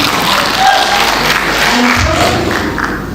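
A crowd applauds in a sustained wash of clapping, with scattered voices and cheers mixed in throughout.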